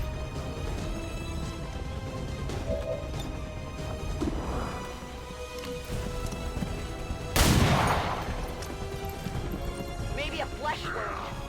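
Pistol shots in the video game XCOM 2, with a loud sharp burst near the middle standing out over a steady game soundscape and background music, alongside people talking.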